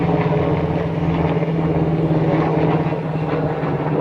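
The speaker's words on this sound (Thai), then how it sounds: "เดี๋ยวนะเครื่องบินคอปเตอร์ผ่านพอดี" Helicopter passing over a durian orchard, a steady droning engine hum with a low rhythmic throb that stays loud and even throughout, no talk.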